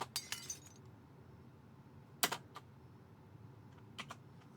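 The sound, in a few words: glass shattering for secondary explosion effect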